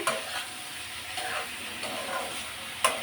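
Potatoes sauté in a pan with a constant soft sizzle, broken by occasional spatula scrapes and a sharper knock near the end.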